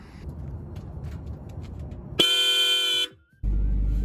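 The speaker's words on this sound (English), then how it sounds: "From past experience, I know that these horns are stupid loud" Aftermarket Hella horns on a Subaru Crosstrek blast in one loud, sustained honk of about a second in an open commuter lot, cutting off, then a short second toot.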